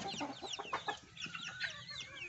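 Young chicks, one with a cold, peeping in a small brooding pen, a rapid flurry of high, thin chirps with some lower clucking underneath, fairly faint and continuous.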